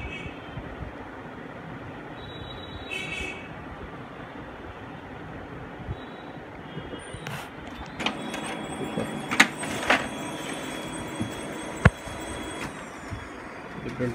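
A Ricoh SP 310 SFN laser printer warming up after an SC 542 error, a steady mechanical hum that grows busier partway through, with whirring, faint high tones and a few sharp clicks.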